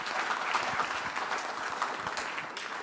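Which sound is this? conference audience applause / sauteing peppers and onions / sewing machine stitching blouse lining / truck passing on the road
conference audience applause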